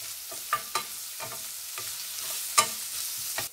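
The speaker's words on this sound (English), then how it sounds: "and cardamom and sliced onion. Saute till brown." Cardamom and sliced onion, along with cumin seeds and a bay leaf, fry in hot oil with a soft, steady sizzle, broken by a few sharp scrapes and taps of a spoon stirring the pan.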